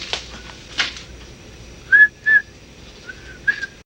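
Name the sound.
whistling Camptown Races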